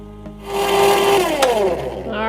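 A countertop ice cream maker starts churning creamy lemon ice cream, its motor whirring up into a steady, loud, close hum with a scraping mechanical tone.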